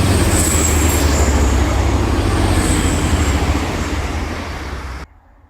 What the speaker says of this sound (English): got the train to Edale just now